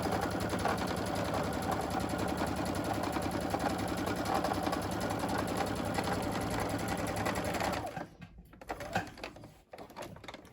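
A sewing machine runs continuously, stitching fabric for a face mask, a loud close mechanical hum that stops after about eight seconds, leaving faint handling noises.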